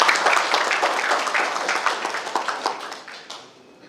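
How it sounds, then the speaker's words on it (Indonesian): An audience at a veterans' league regional assembly opening ceremony in a hotel in Abepura, Papua applauds to welcome a guest. The applause is full and dense at first, then thins out and fades away over about four seconds. "sekali lagi kita sambut beliau dengan tepuk tangan"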